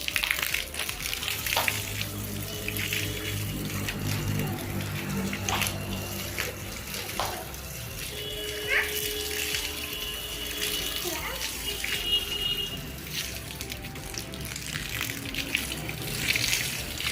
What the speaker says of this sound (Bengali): চলো চলো চলো বারান্দা ধুয়ে দিই